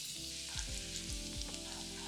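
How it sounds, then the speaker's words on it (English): Olive oil sizzles and crackles steadily with chopped garlic in a frying pan on medium heat, with soft scraping as it is stirred and moved around. "Frying pan on medium heat, a splash of olive oil, chopped garlic,"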